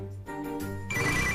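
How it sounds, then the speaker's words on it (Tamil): A telephone rings indoors in a Tamil TV drama scene, repeated electronic bell tones that stay loud and steady before shifting to a brighter ringing pattern. "யார் இந்த நேரத்துல ஃபோன் பண்றாங்க?"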